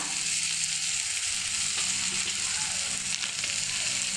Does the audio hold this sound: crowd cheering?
no